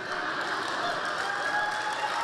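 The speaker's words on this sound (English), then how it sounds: "When I get that much applause before I speak, it makes me very nervous" Steady, dense applause from a large audience at a political speech event in the Bay Area, a continuous wash of many hands clapping at moderate loudness with a faint voice beneath.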